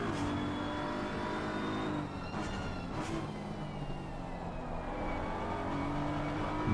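A GT3 race car on the circuit at Brands Hatch accelerates with a steady, sustained engine drone and shifting pitch, heard continuously from onboard at a moderate level without speech.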